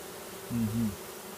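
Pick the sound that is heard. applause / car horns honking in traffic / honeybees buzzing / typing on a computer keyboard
honeybees buzzing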